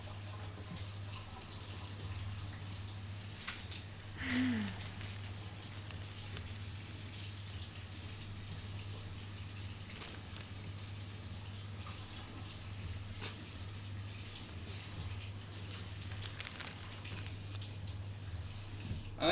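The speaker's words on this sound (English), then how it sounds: "I was putting it under cold water" Cold tap water runs steadily over burned fingers, a continuous, even hiss of flowing water under a low hum, with one brief splash-like shift near the start and no talking.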